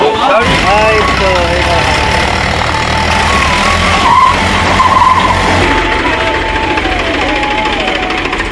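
A stuck car with its wheels spinning and skidding, a loud, sustained engine whine with squealing tires close by, while people talk over it.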